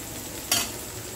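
Potatoes fry gently in a pan over low heat, seasoned with rock salt, giving a soft, low sizzle broken by a single brief scrape of a spatula stirring them midway.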